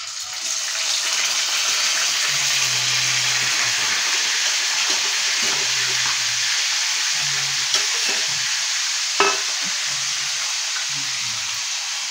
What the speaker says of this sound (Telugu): ఇప్పుడైతే మనం చేపలు వేపుకుందామండి